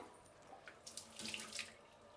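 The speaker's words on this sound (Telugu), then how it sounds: "ఇది పాత్ర అంతా ఇట్లా తిప్పుకొని ఈ నీళ్ళు పోసేద్దాము" Hot, just-boiled water splashes and pours out of a pot in a short burst, rising to a brief gush before trailing off, fairly quiet and with no voices.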